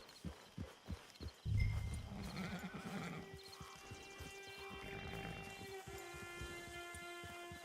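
A horse in the video game Red Dead Redemption 2 Online whinnies loudly up close, with hoofbeats clopping before and under a steady tonal background hum.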